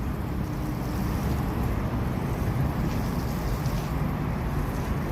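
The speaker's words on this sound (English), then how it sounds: "Using a watering can because as opposed to pouring the water directly" Water poured from a watering can onto freshly mulched organic vegetables and herbs in a kitchen garden, a steady, loud, continuous splashing wash with no talking.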